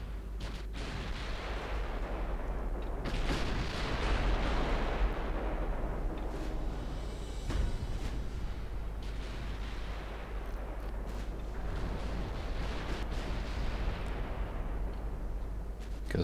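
Warship naval guns fire in a World War I-era naval battle in the game Ultimate Admiral Dreadnoughts, a loud, continuous barrage of overlapping booms and blasts rolling on without pause.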